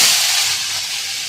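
Leafy greens dropped into hot oil tempered with black cumin and dried chilli burst into a loud, steady, close hiss that eases only slightly as it continues.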